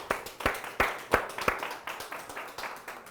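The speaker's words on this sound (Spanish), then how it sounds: "Un aplauso" An audience at a church worship gathering claps in a steady, even rhythm, each clap distinct and moderately close, about three per second, with no voices over it.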